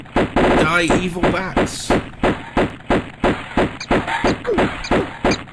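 Rapid bursts of gunfire from the Sega Saturn game Tomb Raider, sharp repeated shots in quick clusters with a voice talking over them throughout.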